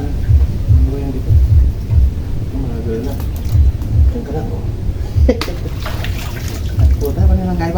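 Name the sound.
heavy rain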